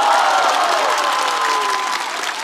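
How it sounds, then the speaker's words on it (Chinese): Loud studio audience applause on a roast comedy show, dense steady clapping close at hand that fades slightly toward the end, with a faint voice sliding underneath. "再次掌声送给纪凌尘"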